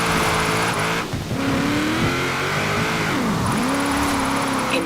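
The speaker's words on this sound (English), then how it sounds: "Now let's really shred those tyres." A car drifting in Forza Horizon 4 roars loudly with engine revs rising and dipping as the tyres squeal through slides, constant and close.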